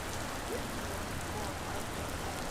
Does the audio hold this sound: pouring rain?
yes